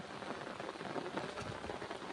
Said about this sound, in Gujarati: વરસાદ વધુ થઈ ગયો છે